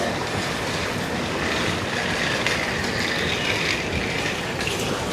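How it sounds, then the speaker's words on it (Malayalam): A train at Banaswadi railway station, a small station beside a narrow street, produces a continuous broadband rumble and rolling noise, steady and moderately loud throughout with no voices. "ഇതാണ് ബാനസവാടി സ്റ്റേഷൻ."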